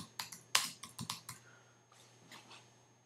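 A quick burst of typing on a computer keyboard as a file name is entered in a Mac music-editing session, crisp close key clicks with one loud strike, then a few softer, sparser taps, over a faint steady hum.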